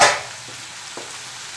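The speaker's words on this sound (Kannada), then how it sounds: "ಸೂಪರಾಗಿ ಫ್ರೈ ಆಗ್ತಾ ಇದೆ." Capsicum frying in a pan gives a soft, steady sizzle right after a loud opening clatter, with a couple of faint taps from stirring. No voices.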